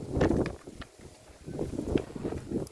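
Wind gusts rumble against an outdoor microphone in steady low buffeting with a few brief lulls, with no talking.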